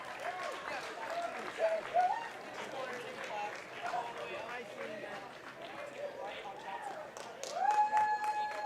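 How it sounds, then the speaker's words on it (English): A crowd at a high school wrestling invitational cheers and claps from across the gym. The noisy, continuous roar sits under an announcer's steady commentary, and a referee's whistle-like tones cut through briefly. "You can hear the crowd cheering."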